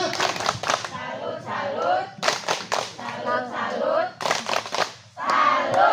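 A group of village mothers at a community welfare meeting perform a rhythmic clapping chant, bursts of patterned claps alternating with voices chanting along, moderately loud and close, with the pattern repeating several times.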